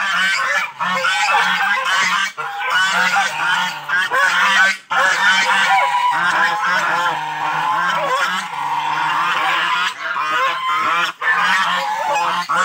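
Loud, continuous honking and quacking from a group of ducks on a farm, many overlapping calls close by with no pauses.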